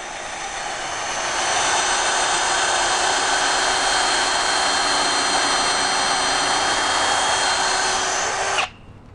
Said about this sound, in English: the drill bit itself will actually cut through the nail